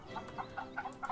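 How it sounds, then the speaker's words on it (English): Chickens cluck in the video game The Sims Medieval, a quick run of short, faint, rhythmic clucks close together over a low background. "oh, we can hear chickens."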